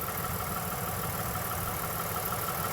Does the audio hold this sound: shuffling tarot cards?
no